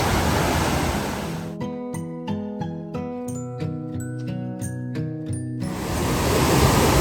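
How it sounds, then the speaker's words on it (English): Water rushes over the Bark Camp Creek cascades in Daniel Boone National Forest, Kentucky: a steady, full broadband roar at the start and end, with a melodic passage laid over it through the middle. "Got a bunch of bubbles coming off the lower part of the Cascades here."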